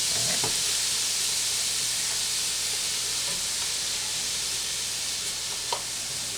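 Goulash sizzling steadily in a hot pan as it is stirred, a constant close hiss of frying with a few faint scrapes and clicks from the stirring.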